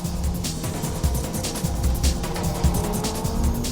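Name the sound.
Mitsubishi Lancer race car driving uphill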